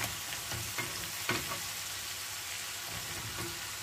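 Flat beans (shim) fry in hot oil with spices in a pan for a fish curry, a steady soft sizzle broken by a few light stirring scrapes and clicks, close by and without speech.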